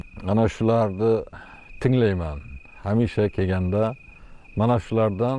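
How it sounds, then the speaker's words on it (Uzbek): Crickets chirp on a village evening in the countryside, a steady, high, thin trill running continuously beneath someone speaking close up. "Mana chigirtka chirilyapti."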